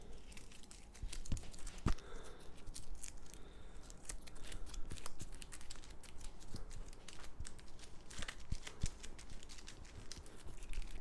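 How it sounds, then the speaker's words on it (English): Board game cards from the Battlestar Galactica game, including the Destiny deck, are shuffled by hand in a quick, crisp run of riffling and snapping flicks. The sound is close and moderately quiet, with no talk over it. "Shuffle these up."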